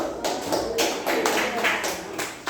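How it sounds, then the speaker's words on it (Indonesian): Students in a classroom clap together in applause, a dense, fairly loud burst of hand claps with a few sharper accents, steady for a couple of seconds. "Beri tepuk tangan dulu."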